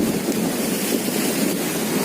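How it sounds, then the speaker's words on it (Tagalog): Strong sea waves pound during a typhoon on the Bicol coast, a loud, continuous roar of surf mixed with wind buffeting the microphone. "ang lakas ng alon."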